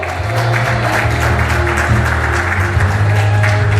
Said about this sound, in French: applaudissez les enfants